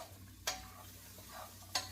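Metal utensil stirring pasta in a pan, with a soft continuous scraping and sizzle punctuated by two sharp metallic clinks against the pan, fairly quiet and close, no talking.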